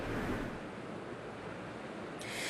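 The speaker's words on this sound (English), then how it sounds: "you can see Roaring Creek is up pretty high right now" Roaring Creek swollen high after days of rain at Knoebels amusement park, rushing as a steady, dense broadband roar of water with no breaks, with a slight hiss near the end.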